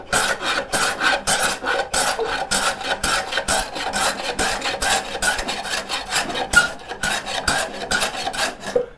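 Hand plane shaving a wooden board in rapid repeated strokes, each pass a bright rasping swish, close and rhythmic with no talk.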